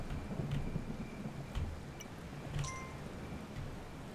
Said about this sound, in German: So, es regnet zwar gerade